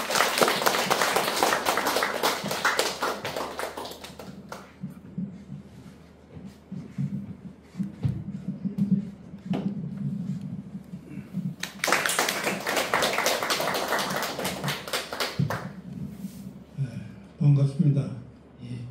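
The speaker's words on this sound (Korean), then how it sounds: "큰 박수 부탁합니다." An audience at a university literary hall welcomes a poet before a lecture with a loud burst of clapping, which gives way to murmuring and talk before a second strong round of applause breaks out, followed by more speech.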